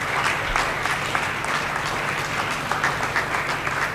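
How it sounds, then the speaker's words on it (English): Loud, dense applause from an audience at a De La Salle signing day event, clapping for the coaches, steady and continuous with no speech over it. "Let's give a round of applause to all the coaches that helped them along the way."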